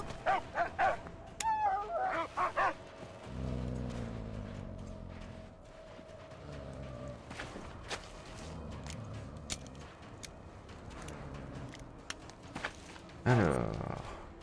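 Dog barking in the Mad Max video game, a few short barks and yips standing out over game sounds and low engine-like rumble, with some brief whimpering.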